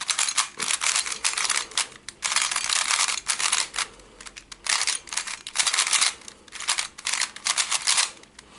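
A FangShi 3x3 speed cube, still stiff and tight, turned rapidly in bursts of dense plastic clicking and clacking with short pauses between runs, close and fairly loud with no voices.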